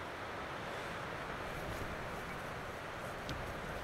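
Icy wind blows steadily across an open lakeside campsite in the wilderness on a cold morning, a constant broadband rush with slight gusting and no voices.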